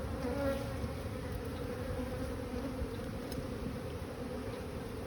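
Honey bees swarm around an open hive frame during a colony inspection, making a dense, steady buzzing drone that stays loud and close throughout, with no talking.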